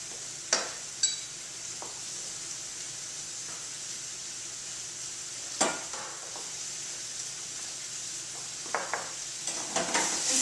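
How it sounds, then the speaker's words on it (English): Spices and garlic gently sizzle in a soup pot with asparagus, a steady soft frying hiss broken by occasional scraping clinks of a stirring utensil, close and quiet with no voices. "I'm going to go ahead and add my spices and the garlic."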